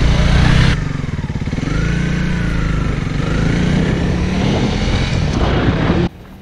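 A Honda CRF300 Rally motorcycle engine, ridden on its first outing, pulls hard up a steep hill grade with a loud, steady droning roar close by that holds for several seconds before dropping off.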